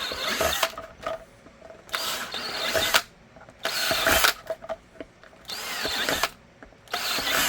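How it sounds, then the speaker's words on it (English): A power drill whines in repeated bursts, drilling holes while making a pistol holster, about five runs of a few seconds each, with short pauses and clicks between them, close by. "I'm going to drill these out"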